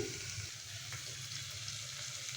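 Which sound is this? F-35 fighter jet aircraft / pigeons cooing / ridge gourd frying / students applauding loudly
ridge gourd frying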